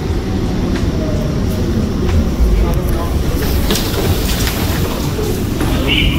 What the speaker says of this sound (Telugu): సో ఇదే అండర్గ్రౌండ్ మెట్రో